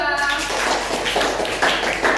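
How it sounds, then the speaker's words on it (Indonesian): Classroom applause for a student group, a short burst of students clapping following a brief voice at the start. "Beri tepuk tangan untuk kelompok 2"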